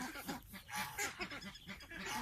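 Several six-week-old laying ducks quack over and over close by, their calls overlapping in a busy, continuous chatter.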